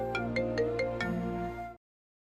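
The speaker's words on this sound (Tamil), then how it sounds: "ஏய் ஃபோன் அடிக்குது." A phone ringtone chimes in a repeating melodic pattern of bright, evenly spaced notes, fairly close and clear, then cuts off abruptly into silence.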